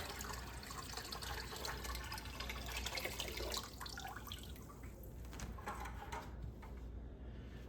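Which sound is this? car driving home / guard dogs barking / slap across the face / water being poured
water being poured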